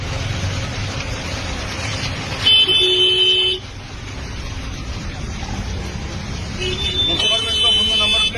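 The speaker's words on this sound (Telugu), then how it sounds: "దీంతో బంపర్ టు బంపర్ నిలిచిపోయిన వాహనాలు. భారీ ట్రాఫిక్ జామ్." Vehicles stand bumper to bumper in a heavy traffic jam on a main road, with steady engine and road rumble and several car horns tooting in short bursts.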